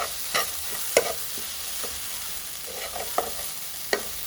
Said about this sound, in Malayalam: ഇനി ഇച്ചിരി സമയം ഒന്ന് വഴന്ന് മഞ്ഞൾപ്പൊടിയും ഉപ്പിലും കിടന്നൊന്ന് വഴന്ന് വരും.